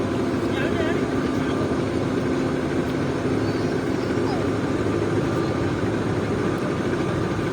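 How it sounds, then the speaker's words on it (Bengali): A trawler boat engine drones loud and steady as it nears a Sundarban 16 passenger launch on the Barisal to Dhaka river route, with wind and water noise and some voices mixed in. "আর ট্রলারটি চলে আসছে একদম লঞ্চের কাছাকাছি"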